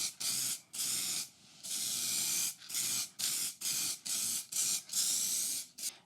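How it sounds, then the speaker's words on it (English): Spray varnish hisses from an aerosol can onto pallet wood wall clocks in about ten short, close bursts separated by brief pauses, with no voices. "I'm just going to add a bit of spray varnish to secure all my"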